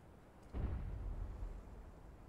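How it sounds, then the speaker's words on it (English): A flashbang goes off in a Team Fortress 2 match, a single sudden low boom that swells and rumbles on for nearly two seconds before slowly fading. "Throwing a flashbang."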